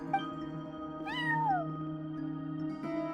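A cat meows at a front desk in the video game Song of the Welkin Moon, one clear rising-and-falling meow near the middle over steady tonal background music.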